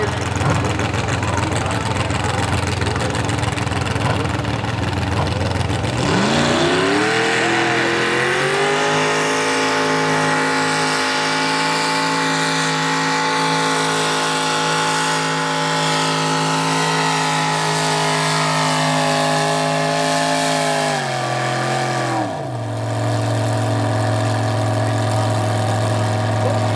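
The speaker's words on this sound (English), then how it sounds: "Get this big block Chevy singing, get some power to the ground." A big block Chevy engine in a mini rod pulling tractor idles, then roars up to a loud, sustained high-revving pull for about fifteen seconds before dropping back to idle, with an announcer talking over it.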